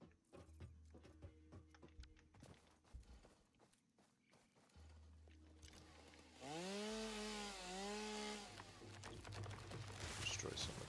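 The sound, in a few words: chainsaw cutting in video game Satisfactory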